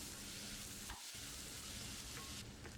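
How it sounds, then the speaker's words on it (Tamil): Onions and tomatoes sizzle and crackle steadily in a hot pan for prawn drumstick curry, with a brief stirring scrape partway through. "வெங்காயம் ஓரளவுக்கு வதங்கி வர அதுக்குள்ளே நறுக்கி வச்சுருக்க தக்காளியை போட்டு நல்லா மிக்ஸ் பண்ணி விடுங்க."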